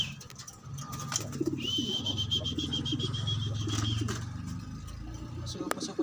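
Pigeons in a loft, white and blue check birds, coo in low, soft throaty rolls with a brief flutter of wings, under intermittent nearby talk.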